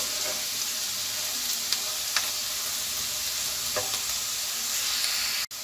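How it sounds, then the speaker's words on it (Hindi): Potatoes frying crisp and golden in a pan for aloo chaat, a dense continuous sizzle with occasional soft clinks and scrapes as they are turned, ending in a brief knock. "हम इन आलूओं को उल्टा पलटा करते रहेंगे ताकि ये जल ना जाए"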